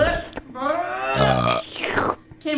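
A long, gurgling belch voiced by a storyteller reading a children's rhyming tale aloud, imitating an ape gorging on grapes; the drawn-out croak rises and falls for about two seconds with speech around it.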